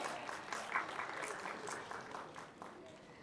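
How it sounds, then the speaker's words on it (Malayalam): An audience at an album launch event applauds in a faint, continuous patter that sounds distant. Talking continues over the clapping. "നമുക്ക് എല്ലാവർക്കും ഒരു വലിയ കയ്യടി കൊടുക്കാം."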